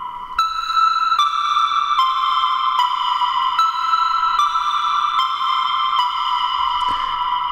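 A bright synth melody of evenly spaced plucked notes, each with a short ping and ringing tail, playing steadily and clearly for several seconds.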